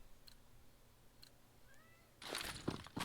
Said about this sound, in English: I just heard my cat meowing.